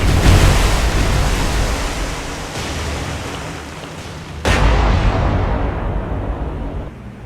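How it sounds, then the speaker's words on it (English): Naval gunfire and shell explosions from a warship battle in the War on the Sea game, a broad roaring rumble with a sharp new blast about midway that swells loudly, then slowly fades, with no talk. "That was a good explosion."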